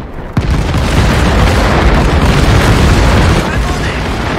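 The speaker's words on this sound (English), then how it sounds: "Mortars! Run for cover!" Mortar rounds explode in the war video game Land of War, a very loud, dense rumbling blast that swells quickly and holds as a heavy roar for several seconds, close and overpowering.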